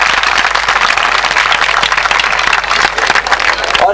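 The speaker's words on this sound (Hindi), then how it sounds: "मैं चाहूँगा भरपूर तालियां" Loud, dense audience applause at a confirmation ceremony for Ch. Saleem A. Yousaf, a close, continuous crackle of many hands clapping throughout.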